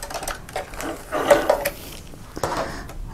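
A sewing machine makes a little back stitch on fabric, heard as a few short, close clattering bursts of stitching separated by brief pauses.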